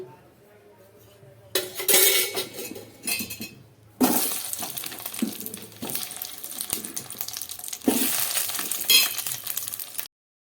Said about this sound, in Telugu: మనం కట్ చేసిన దొండకాయలు వేసి ఫ్రై చేసుకోవాలండి